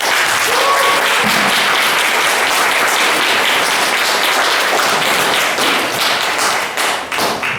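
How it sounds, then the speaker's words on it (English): A church congregation gives a pastor steady, dense applause that carries on loudly without a break and begins to thin only near the end. "let us welcome Pastor Lee with a warm round of applause"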